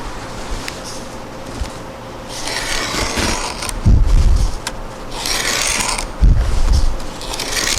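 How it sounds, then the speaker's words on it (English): A blade draws along a straight edge to cut wood veneer into strips, giving several loud, close rasping strokes of a second or two each, with quieter scraping between them and no talking. "take my straight edge and line up with this outside edge and cut strips exactly the same width as my straight edge"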